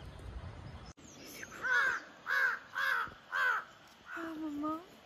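A crow caws four times in a steady, evenly spaced series, loud and close, followed by a longer wavering call, with faint background noise beneath.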